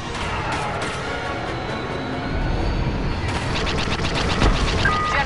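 Dense, continuous blaster fire from many weapons in a Star Wars Battlefront 2 space battle, loud rapid crackling shots over a roaring background that swells midway and keeps going.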